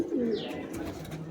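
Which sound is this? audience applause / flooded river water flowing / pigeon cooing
pigeon cooing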